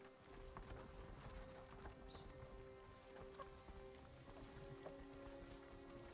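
Horses' hooves clip-clop steadily in the video game Ghost of Tsushima, quiet and continuous over a low ambient bed with faint tonal game music.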